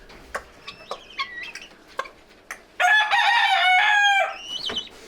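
Chickens clucking on a spring farm, short scattered clucks followed by a loud sustained crowing-like call from a rooster, close and prominent, with a few more clucks trailing off.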